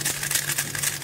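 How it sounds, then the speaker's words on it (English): MoYu RS3M 2020 speedcube being turned, giving a fast run of close, crisp plastic clicks and rattles at a steady moderate level with no talking. "when I do this, this give some clicky sound like this"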